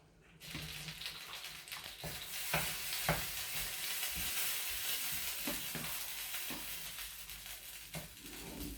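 Goulash soup on a lowered flame makes a steady, close sizzle and bubbling hiss, with several distinct knocks and scrapes of a spoon or pot scattered through.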